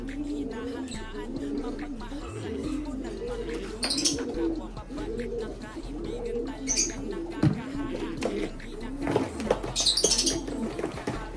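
Racing pigeons coo steadily in repeated rolling phrases close by, with a few flutters and knocks. Someone speaks over them at times.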